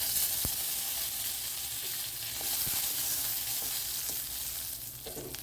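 Asafoetida and curry leaves frying in hot oil for a brinjal chutney, a steady soft sizzle with a few sharp crackles and pops, moderately quiet and without any talking.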